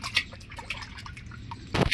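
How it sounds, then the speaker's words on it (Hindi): Water dripping and splashing as vegetables are washed in a water tank, scattered soft drips and small splashes at close range, ending in a louder burst of sloshing water. "ये टंकी है, टंकी में धो लेते हैं हम इसे"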